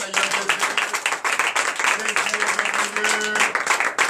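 A church congregation at a night deliverance service in Benin claps in fast rhythmic bursts while a voice speaks or calls out over the clapping.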